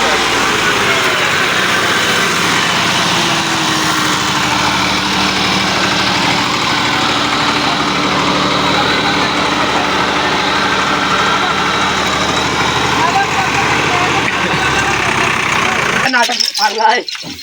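A tractor with a stuck gear idles steadily with a continuous low rumble for most of the stretch, then cuts off abruptly near the end.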